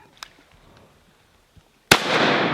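A shotgun fires during a duck hunt: a single sharp, loud blast after a quiet stretch of faint outdoor noise, followed by a broad, lingering roar of the report fading outdoors.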